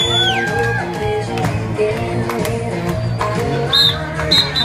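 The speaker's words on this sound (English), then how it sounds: "y toda la gente aplaudiendo" A crowd applauds and cheers, with loud whoops and shouts rising over steady clapping, while music and voices carry underneath throughout.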